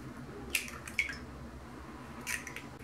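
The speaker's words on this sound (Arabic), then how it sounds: "غادي نهرس فيه جوج ديال البيضات" Two eggs cracked into a bowl while preparing basbousa, giving a few soft, sharp taps and wet drips at wide intervals, fairly quiet with no talking.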